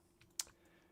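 A single computer keyboard key is pressed during a 3D modelling session, giving one sharp, quiet click with a faint softer tap just before it, set against a very low background hum.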